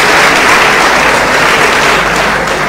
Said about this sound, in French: Applaudissez pour vous, les gars.